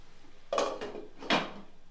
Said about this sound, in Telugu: ఇప్పుడు మరొకసారి ఒక 5 నిమిషాల సేపు మూత పెట్టేసి